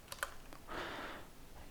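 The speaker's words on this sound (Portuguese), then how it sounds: "Vou digitar aqui de novo try dois pontos." A few quiet computer keyboard keystrokes tap out Python code, followed by a soft, brief rush of noise, all faint and close without talk.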